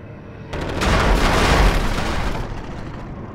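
Gunfire and explosive bursts from an aircraft strafing run over a runway in the flight combat game Cliffs of Dover, a sudden loud roar of rapid fire that swells and then tapers into a rumbling tail, with no voices.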